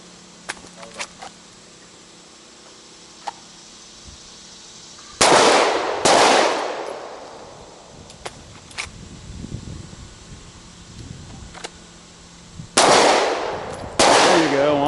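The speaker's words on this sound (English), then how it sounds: "I'm actually going to shoot it." Gunshots are fired at a target during a near-far shooting drill, loud sharp reports in two spaced groups that ring out over a quiet outdoor background with faint clicks between them.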